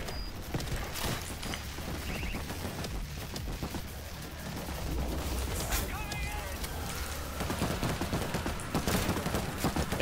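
Gunfire in a World War Z horde battle, a steady stream of shots and bursts layered in a chaotic, busy mix, with people talking over it throughout.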